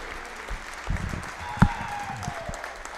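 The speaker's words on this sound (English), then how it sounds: "How about a nice round of applause for Super Senior Cassidy Peters?" A crowd at a girls' high school basketball game, Shenango Wildcats versus New Brighton Lions, claps for a senior on the court. The applause sounds moderate and somewhat distant, with one sharp nearby thud partway through.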